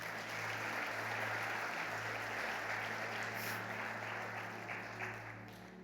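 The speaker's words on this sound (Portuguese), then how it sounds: "Aplauda o Senhor Jesus." A church congregation claps steadily in praise after a sermon, a sustained wash of applause throughout, heard from a distance and fairly faint over a low electrical hum.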